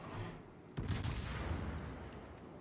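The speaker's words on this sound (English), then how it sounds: "He's got all the guns firing." Guns of the battleship Montana fire a sudden heavy salvo in World of Warships, a sharp booming onset followed by rolling, rumbling echoes that fade out over a couple of seconds.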